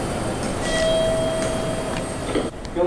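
Limited express train Nichirin bound for Hakata, standing at a station in Kyushu, Japan, with a loud, steady mechanical hum, faint whine and a few clicks and clunks.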